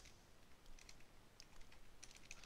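Quiet, close clicking of computer keys being typed in a short irregular run of light taps.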